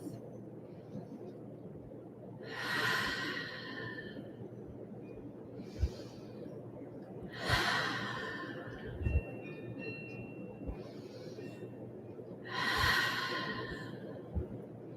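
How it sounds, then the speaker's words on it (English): Slow meditative breaths, drawn in through the nose and released out through the mouth, three long exhalation swells spaced evenly over a quiet, low background hum; close and soft, with no talking. "let's begin breathing in through the nose and out through the mouth"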